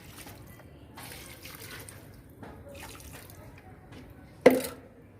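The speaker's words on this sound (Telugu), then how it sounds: "కొన్ని వాటర్ పోసేసాను." Water from a tap is poured over spinach plants in a shaded garden spot, making soft intermittent splashes and trickles that end in a sharper splash, with no voices.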